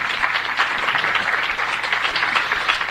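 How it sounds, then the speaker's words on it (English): Audience applause welcoming a speaker, Mike Gonzalez, to a lecture at a Marxism 2004 event: dense, steady clapping from a full room that runs loud and unbroken throughout. "I like this new habit where you get applauded beforehand."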